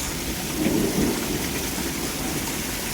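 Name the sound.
rain and thunderstorm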